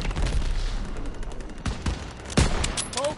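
Gunfire rattles through a Call of Duty WW2 battle in a series of sharp bursts and scattered shots, fairly loud, with a louder crack near the end.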